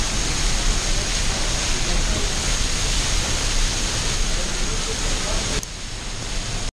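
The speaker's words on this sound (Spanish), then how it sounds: "Y estamos justo debajo de la cascada." Roar of the Pailón del Diablo waterfall in Ecuador, heard from just beneath it: a loud, steady broadband rush that fills the whole clip and drops slightly near the end.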